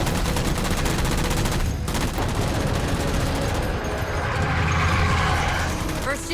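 Sustained loud gunfire in Halo 4 while shooting down enemy jammers, continuous rapid automatic shots layered with mechanical game effects and explosions, with voices speaking over the battle.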